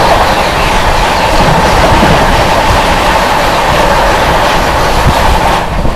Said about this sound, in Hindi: सामने से आ रही है हावड़ा जोधपुर सुपरफास्ट एक्सप्रेस